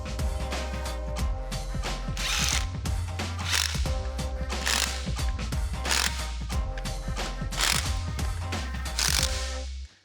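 An impact wrench snugs up bolts on a Jeep drum brake job, hammering in loud, dense rattling bursts that run almost without a break before stopping abruptly.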